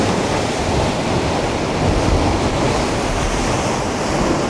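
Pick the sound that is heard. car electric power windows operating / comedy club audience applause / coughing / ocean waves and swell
ocean waves and swell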